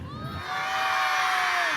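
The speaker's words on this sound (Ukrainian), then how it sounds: "А ну усі крикнули ура, три чотири" A group of children at a New Year's celebration shouts a loud, sustained cheer of "hurrah" together, their voices rising and holding in a single joyful burst.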